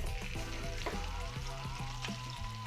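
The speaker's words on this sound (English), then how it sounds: "And we're going to start frying our leeks." Leeks fry in a little olive oil in a non-stick pan, a dense, close, steady sizzle with faint crackles and a few scraping stirs.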